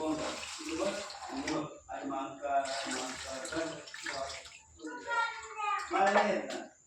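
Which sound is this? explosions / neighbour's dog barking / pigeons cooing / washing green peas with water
washing green peas with water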